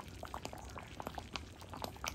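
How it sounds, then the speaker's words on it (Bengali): Mung dal with soybeans bubbles in a pot, giving a quiet, continuous burble of small pops close by with no speech. "তো ডালটা যখন খুব এরকম করে ফুটবে"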